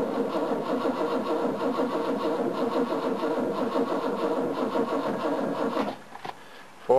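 An old car engine cranking repeatedly on a weakening battery, a rapid rhythmic churning close up for about six seconds before it stops without catching, followed by a brief click.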